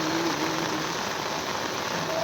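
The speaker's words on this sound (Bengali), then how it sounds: "বৃষ্টি কিন্তু আবার চেপে এসছে।" Heavy rain pours down steadily beside a river during a fishing outing, a dense continuous hiss of drops close by and fairly loud, with no one speaking.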